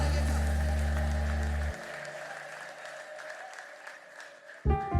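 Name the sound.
congregation applause for the Lord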